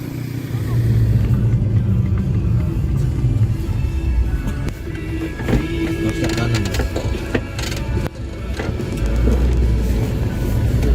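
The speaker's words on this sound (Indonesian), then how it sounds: "Nah itu mobil teman-teman tuh." A car carrying a group of friends drives past on a road at Kampung Muting, Ulilin district, on the long route from Merauke to Boven Digoel in South Papua. A loud engine rumble swells and fades within continuous road and cabin noise, with voices audible in the background.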